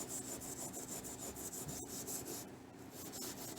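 A hand block rubs back and forth across the metal base of a hand plane under restoration, making a steady, rhythmic, close-up abrasive scrubbing.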